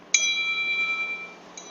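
A single bell strike rings over a phone line, clear and metallic, then hangs in a long thin decay, with a faint second touch just before the end.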